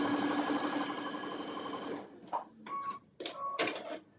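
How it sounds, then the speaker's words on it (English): A sewing machine stitches a shamrock wall hanging in a steady, fast, close mechanical whir for about two seconds, then gives short stop-and-start bursts with brief pauses between them. "I let my laser ride that line. And then I know that I'm sewing right on the line"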